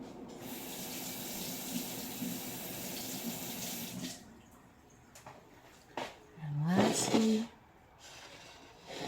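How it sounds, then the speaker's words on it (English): A kitchen tap runs as a knife is rinsed under it, a steady splashing stream for about four seconds before it shuts off, followed by quieter handling sounds and a short voiced sound near the end. "Rinse my knife once more."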